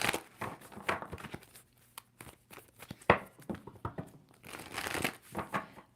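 Tarot card deck being shuffled by hand, a run of crisp riffling and rustling bursts at close range, irregular and fairly quiet.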